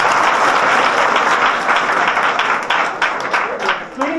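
An audience claps loudly and steadily during a motivational speech, and a crowd murmur and voices rise beneath the applause as it begins to thin toward the end.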